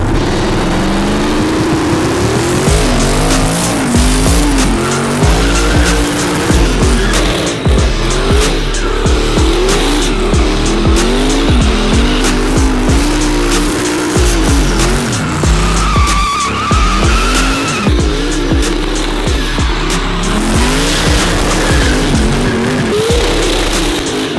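A car engine roars and revs continuously while tires squeal loudly and repeatedly during burnouts, a sustained, dense din with no pauses.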